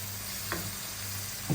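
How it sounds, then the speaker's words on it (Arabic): Garlic and mushrooms frying in a pan, with a steady low sizzle and two brief scraping stirs, the second slightly louder, close by and without any talk. "شوفوا كديروا الثومه ثاني وكنحركوا، وغادي نزيد هذا الفطر حتى هو"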